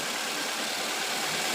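A car engine idles steadily with a dense, even running noise while the radiator is bled after a water pump replacement, no voices over it.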